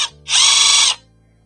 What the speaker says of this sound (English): I have a little chamfering bit on my cordless impact, 1/4 inch impact